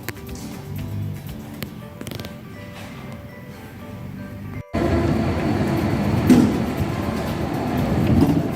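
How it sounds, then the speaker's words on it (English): A small sightseeing tourist train rumbles past nearby in Linz, Austria, a loud steady rolling drone that swells partway through after a quieter stretch of street ambience. "You even have a sightseeing train here, a little choo-choo train"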